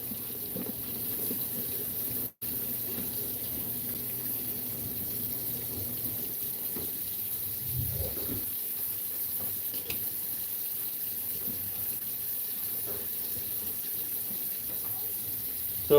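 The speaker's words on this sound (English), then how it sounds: "Washing my soon-to-be baby boy's bottles." Tap water runs steadily into a sink while baby bottles are washed, a constant faint gush with occasional soft clinks and handling sounds throughout.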